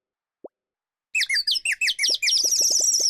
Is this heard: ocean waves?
no